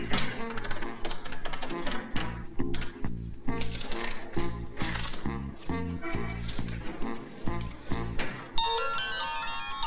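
A mobile phone ringtone plays loudly and close, a repeating melodic pattern of beeping notes that runs nearly ten seconds before shifting to a different tone at the end.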